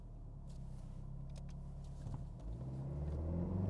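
A front-wheel-drive Dacia Duster with 150 horsepower accelerates hard, its engine note a steady loud rumble that climbs and swells toward the end of the run, with no talk over it.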